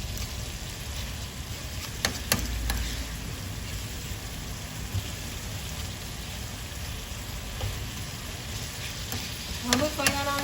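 Stuffed bell pepper filling stirred in a pan, a steady broad sizzle-and-scrape texture running throughout, with a few brief sharper clinks of the utensil and quiet background noise, no talking.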